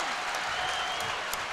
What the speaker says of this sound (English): Huge applause for her.